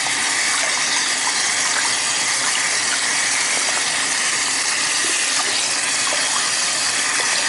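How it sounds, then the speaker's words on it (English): Water from a tap runs steadily over a doll's hair as it is rinsed of brown dye, a loud, continuous gushing close by with faint squeezing movements underneath. "So you have to keep repeating the rinsing process and squeezing until there's no more brown."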